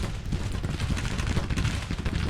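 Artillery bombardment in the Civil War strategy game Grand Tactician, a dense continuous rumble of cannon fire and booming explosions, steady and moderately loud with no talk.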